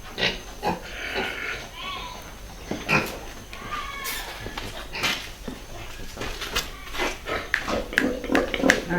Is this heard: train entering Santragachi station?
no